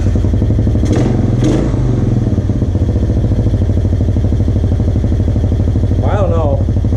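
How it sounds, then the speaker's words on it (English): A Honda TRX 200sx ATV engine runs after a carburetor cleaning, a loud, steady, rapid-pulsing idle that holds even throughout, with someone talking briefly over it. "That sounds like a Honda to me. It's running really nice."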